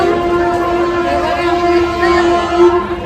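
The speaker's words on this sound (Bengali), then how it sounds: "দেখো পাশ দিয়ে ট্রেন যাচ্ছে, ট্রেনের হর্নের আওয়াজ পাচ্ছি আমরা" A passing train sounds a long, loud horn, a steady sustained tone held for about three seconds over rolling rail noise nearby.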